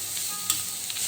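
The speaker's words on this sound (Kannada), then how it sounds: "ಇವಾಗ ಬೆಳ್ಳುಳ್ಳಿ ಪೇಸ್ಟು, ಕ್ಯಾಪ್ಸಿಕಮ್ಮು, ಇದನ್ನು ಚೆನ್ನಾಗಿ 1 ಮಿನಿಟ್ ಫ್ರೈ ಮಾಡ್ಕೊಬೇಕು." Garlic paste and capsicum frying in a pan for paneer pav bhaji give a steady, close sizzle with a couple of brief stirring scrapes.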